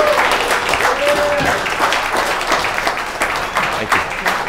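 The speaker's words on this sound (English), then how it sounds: "And let's give Dylan Hubbard another round of applause." Audience applause at an inshore and near-shore fishing seminar, dense steady clapping from a crowd that carries on at full strength for several seconds.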